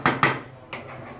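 Chicken biryani being turned over in a cooking pot, with two sharp metal clanks of utensil against pot close together, then a softer scrape and clatter, fairly quiet with no talking.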